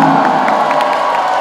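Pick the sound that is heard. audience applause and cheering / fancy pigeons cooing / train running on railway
audience applause and cheering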